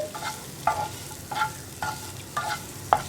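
Egg yolk being stirred in a frying pan for egg pepper fry, with six evenly spaced scrapes of the spoon over a soft background sizzle and no talk.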